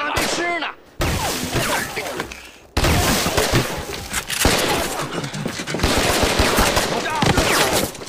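Gunfire rattles in a Chinese war drama, with bursts of rapid shots and sharp cracks under shouting voices, cutting in and out between scenes at close, loud range.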